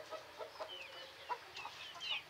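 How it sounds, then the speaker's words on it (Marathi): Pure Gavrani country chickens, a small flock of hens and chicks on a farm, clucking and chirping in short overlapping calls with a few louder squawks, moderately close and steady throughout. "या प्युअर गावरानी कोंबड्या आहेत"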